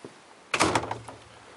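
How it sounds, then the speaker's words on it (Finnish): An indoor door swung shut with a single solid thunk and a short rattle of the latch, close by, then a quiet fade. "Pannaanpas ovi kiinni."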